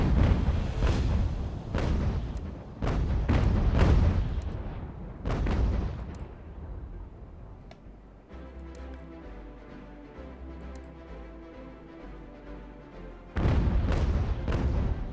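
Ship artillery fires in the UGAR naval battle game on a foggy night. A series of deep booming shots comes in quick bursts, then fades to a quieter low rumble, and a final heavy blast follows.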